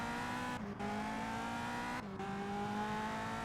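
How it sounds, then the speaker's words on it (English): A race car engine in Indianapolis 500 Evolution at the 1965 Riverside 300, revving high and steady, with two brief drops in pitch as gears shift before it climbs again, loud and alone with no talking. "Back on the throttle."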